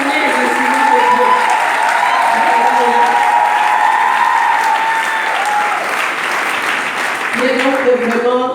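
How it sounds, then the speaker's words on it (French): Sustained applause from a large audience at a church women's conference fills the hall, steady and dense throughout, with tonal hum and organ-like sustained notes running beneath and a brief musical phrase entering near the end. "Et je voudrais que vous acclamez, vraiment ovationnez les instruments de Dieu."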